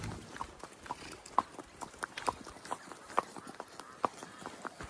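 A horse walks along a trail in the valley at Pahalgam, Kashmir, its hooves clip-clopping in a steady, fairly quick rhythm, moderately close but soft, with some faint background talk.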